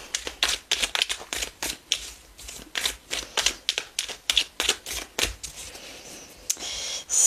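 Tarot Lumen cards are handled and shuffled in quick, steady flicks, a crisp rapid run of papery riffles and snaps that continues close throughout.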